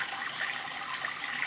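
Water running steadily from the outlet of a fish hatching pond's flow-through pipes, a continuous close splashing rush with no talk.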